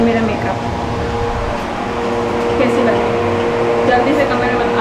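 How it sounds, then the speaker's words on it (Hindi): A noisy electric ceiling fan runs in a home, giving a steady, loud mechanical whir with a constant hum throughout, with no pauses. "मैं पंखा बंद करना भूल गई, सबसे बुरी आवाज करता है ये पंखा"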